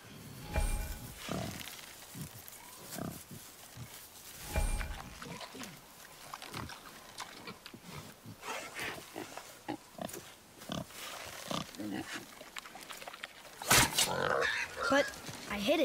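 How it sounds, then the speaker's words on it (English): A wild boar in the video game God of War gives repeated low grunts and snorts in bursts, near and fairly loud, mixed with game effects and a louder scuffle toward the end, with people talking at times. "Wild boar's hide is thick."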